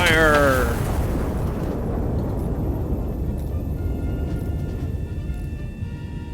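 A heavy artillery gun fires in the tactical artillery simulator Iron Nest: one loud booming blast at the start, followed by a long rumbling roar that slowly fades.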